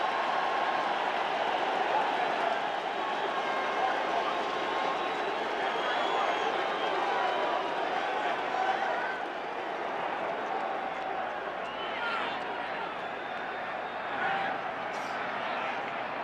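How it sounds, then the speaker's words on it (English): A 1985 NFL Championship stadium crowd applauds the Chicago Bears defense, a broad, sustained roar of clapping and cheering that eases slightly midway, with a commentator talking over it. "Listen to the applause for the Bear defense."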